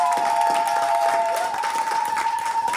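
A church congregation applauding: a continuous wash of many hands clapping together, fairly loud and sustained, with a held musical tone running underneath.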